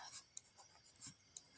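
Pen writing on paper while a geometry lesson on triangles is worked out, quiet scratchy strokes and soft taps in an irregular rhythm, with faint whispery voice sounds underneath.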